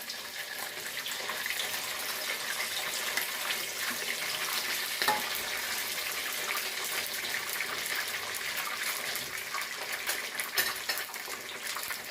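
Snakeskin gourami fish deep-frying in hot oil, three at a time, giving a dense, steady, close hiss and crackle throughout with no voices.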